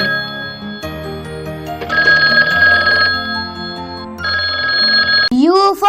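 An old-style telephone bell rings in bursts over a musical backing, with a voice joining near the end.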